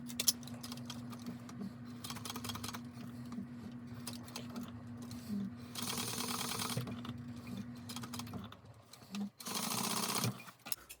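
A sewing machine stitches fabric with gray thread in a steady rapid whir that runs nearly throughout, pausing briefly near the end before a final loud burst of stitching.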